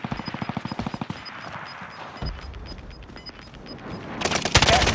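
Bursts of gunfire in a battle royale video game: rapid rhythmic shots at the start, a heavy thump midway, then a dense loud volley near the end, with a steady high beeping tone running through.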